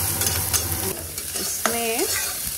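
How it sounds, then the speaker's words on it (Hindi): Onions fry in a little oil with a bright, steady sizzle and crackle, brief scraping stirs, and a short tonal squeal near the end. "थोड़ा सा तेल डाल के ये अनियन फ्राई करेंगे थोड़ा सा."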